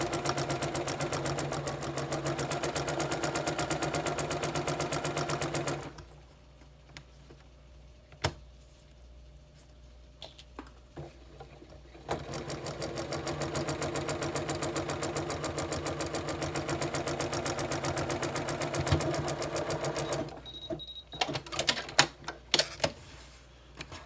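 Sewing machine running steadily as it stitches a bandanna face mask, a continuous mechanical whir with a brief pause partway through before stitching resumes, ending in a few scattered clicks and handling noises.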